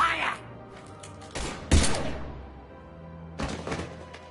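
Gunfire in Mass Effect 3 comes as heavy bursts of shots and impacts, with a loud cluster in the middle and another burst near the end, over low background hum.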